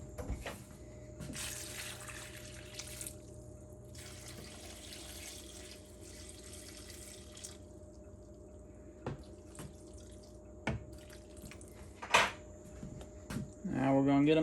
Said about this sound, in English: Put me a little bit more water in them.